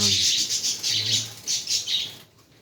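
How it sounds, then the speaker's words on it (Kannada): Native domestic (nati) pigeons at a pet shop flutter close by in several quick bursts with soft chirpy calls, then the sound drops away to near silence. "ನೋಡಿ, ಇದು ನಾಟಿ ಪಾರಿವಾಳ"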